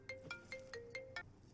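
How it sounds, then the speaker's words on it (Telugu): A phone sounds a ringtone for an incoming call, a repeating run of bright tonal chimes at a soft, steady level. "సారీ, కొంచెం ఇంపార్టెంట్ ఫోన్ కాల్"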